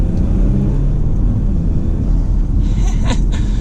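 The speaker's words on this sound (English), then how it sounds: "you can hear the turbo noise just a little bit" A 2020 Porsche Macan S drives along with a steady, loud engine and road rumble, and a faint turbo whir rises briefly near the end.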